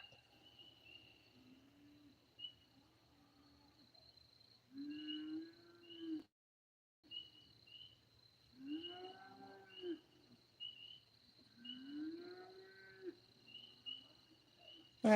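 Cattle bawl in several long, low moans spaced through the stretch, some louder and nearer than others, over a constant background drone of crickets or insects, with one brief gap of silence.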